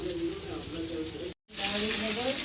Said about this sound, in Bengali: এখানে লবণ আর একটু হলুদ দিয়ে দিয়েছি এবার আলুটা ভেজে নেব